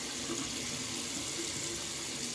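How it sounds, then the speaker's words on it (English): Steady tap water running and splashing as a straight razor is rinsed under it, a loud, close, continuous rush with no voices. "Do a little rinse off."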